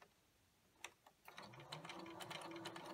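Sewing machine chain stitching fabric pieces for a candy corn banner, starting with a few isolated clicks, then settling into a rapid, steady mechanical stitching whir, quiet and close with no talk.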